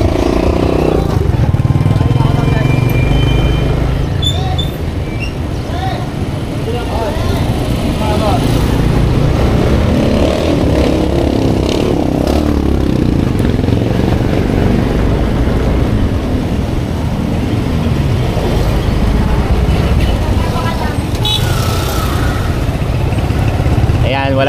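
A motorcycle engine runs steadily throughout, a continuous low rumble with some mechanical rattle and a few faint voices nearby.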